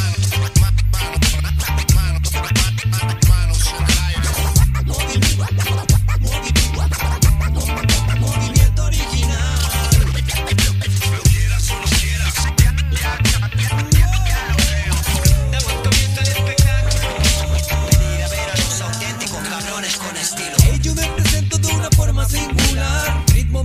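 A 2008 recording of a song plays continuously, with a steady, heavy beat of thumping bass and drums under dense vocals and music that runs throughout.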